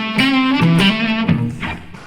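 A distorted electric guitar plays a few close, loud notes in which the string is bent only a half step, falling short of the target pitch. The short, wavering phrase plays alone with no voice.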